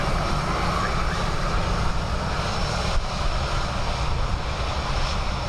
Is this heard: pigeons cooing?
no